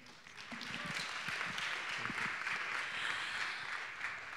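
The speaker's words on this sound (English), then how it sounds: "Ladies and gentlemen, one more round of applause for Vitalik." Audience applause at the close of a Kyber Network 2.0 conference session, a steady wash of many hands clapping from a sizeable crowd that swells quickly and holds for about four seconds.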